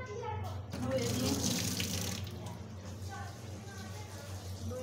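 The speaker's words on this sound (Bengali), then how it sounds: "হাতটা সুন্দর করে ধুয়ে নিয়ে" Water runs from a kitchen tap into a sink while hands are washed before frying fish, a steady rushing splash over a low hum, with a voice faintly present.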